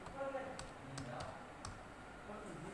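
Light clicking keystrokes on a computer keyboard, a few scattered taps under quiet background, faint and close.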